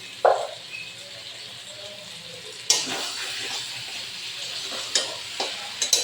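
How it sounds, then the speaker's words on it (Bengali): Mustard oil sizzles steadily in a pan with a sharp splash at the start, then a louder burst as sea crab drops in, followed by stirring clatter. "দিয়ে দেবো একটু সরিষার তেল, কাঁকড়াটা ভাজা হবে, আর একটু তেল দিয়ে দিলাম।"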